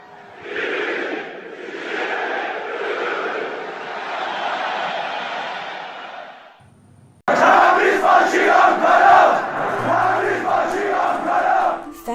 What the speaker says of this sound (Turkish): fans of the Iranian football club Tractor Sazi chant this at games